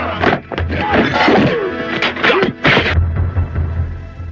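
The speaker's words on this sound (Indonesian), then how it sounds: "anak buah Wong pun menyerang dengan tangan kosong dan baku hantam pun tak terelakkan lagi" Bare-handed fistfight in a gangster film: a series of heavy thwacks and thuds land in quick irregular bursts, with grunts and voices mixed among the blows.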